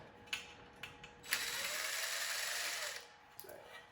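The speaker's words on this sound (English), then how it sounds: "I'm going to go ahead and take the rest of these screws off" Screws are removed from a 12U AxcessAbles rack panel with a hand tool, giving a few light clicks and taps, then a steady whirring grind that lasts about 1.5 seconds and stops, followed by a couple more faint clicks.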